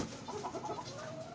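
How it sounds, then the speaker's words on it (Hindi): Desi chickens kept in a small backyard mini zoo cluck softly and steadily at close range, a few birds overlapping in short calls over faint outdoor background noise. "और ये मुर्गे भी हमारे पास कुछ पाले हैं हमने देसी मुर्गे"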